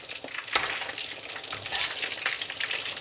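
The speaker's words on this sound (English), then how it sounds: "the little chicken nugget bites inside the oil, if the temperature is quite hot on the oil, then just make sure you turn them over" Malai tikka chicken nugget bites frying in hot oil, a steady close sizzle with scattered pops and crackles, quiet and continuous with no voices.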